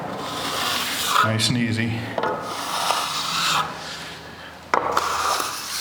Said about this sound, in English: I'm using the edge of the trowel. I'm not laying it flat. I'm just kind of dragging one edge through like that.